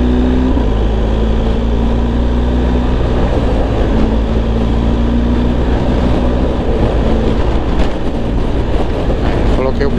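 A BMW R1250GS Adventure motorcycle cruises at 120 km/h: steady, loud engine drone with heavy wind rush, constant and unbroken on an open road.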